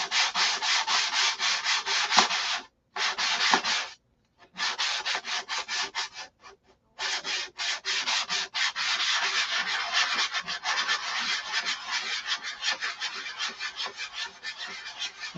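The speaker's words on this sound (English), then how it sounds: "And I'm just hand sanding 180." Wood filler is hand sanded with 180-grit sandpaper in close, steady rasping strokes that repeat in rhythmic runs, broken by a few short pauses.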